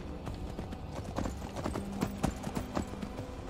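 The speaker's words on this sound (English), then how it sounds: "I'm getting frustrated with my horse." Horse hooves clip-clop steadily in Skyrim, a brisk, close rhythm of hollow knocks continuing throughout over a busy game soundscape.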